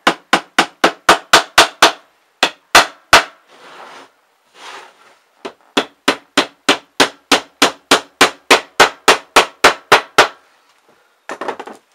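A hammer drives nails into scrap wood for a pirate chest in rapid, loud, evenly spaced strikes, in several runs of about ten blows separated by short pauses and faint handling noise.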